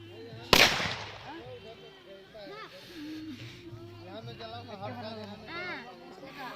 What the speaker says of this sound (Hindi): ये हमारे आकाश बम फोड़ रहे हैं यहाँ पे।